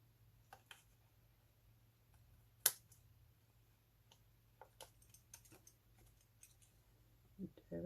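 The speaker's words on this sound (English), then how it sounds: "we can use our snips to trim that off" Small scissor snips trimming designer series paper in a papercraft project, a few short crisp cuts spread out and fairly faint against a quiet background hum.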